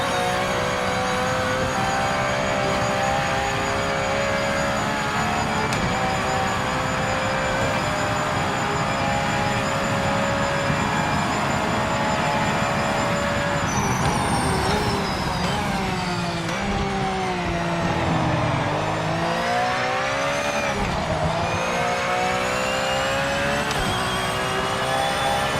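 Porsche race car engine in a racing video game, a steady loud engine drone held through long stretches, then sweeping up and down in pitch through shifts and revs near the end.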